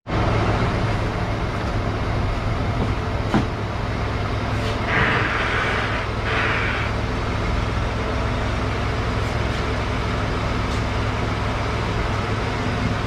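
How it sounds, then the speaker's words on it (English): A 2015 Ford F150 truck idles with a steady engine rumble while the steering wheel is turned, with brief hissy swells over the continuous drone. "turn the vehicle on, and turn the wheel and see how that comes out"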